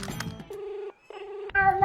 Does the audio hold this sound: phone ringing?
yes